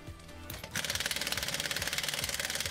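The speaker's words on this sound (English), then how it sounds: "he places the jack stands, and off come the lug nuts" An impact wrench rattles lug nuts off an RV's steer and tag axle wheels, a loud, fast, steady hammering burst that starts abruptly after a short lead-in of shop noise, with no talk.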